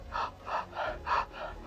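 A person breathes deeply through an open mouth, five even, audible huffing breaths in a steady rhythm, close and fairly soft, with no speech.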